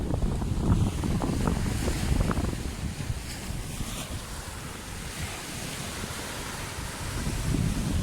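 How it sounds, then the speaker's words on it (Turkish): Sea waves roll and break on a sandy beach, a loud continuous surf roar with surges rising and falling, mixed with gusty wind buffeting the microphone and no talking. "Dalgalar üstüme üstüme geliyor."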